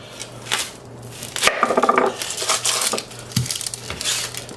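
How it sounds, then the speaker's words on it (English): A knife chops white onion on a board in a home kitchen, giving irregular, close knocks and crunchy cuts with brief pauses between strokes, and no one talks. "we're going to cut up about a cup of white onion."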